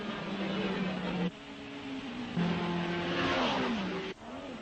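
Racing cars of the 1961 Belgian Grand Prix at Spa roar through the hairpin, engines droning and rising in pitch as they accelerate, one after another, loud and fairly close.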